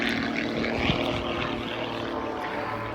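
A jet aircraft hovers at the RAF Cosford air show, its engines producing a loud, unbroken roaring drone that fills the entire stretch, heard from a distance in the open.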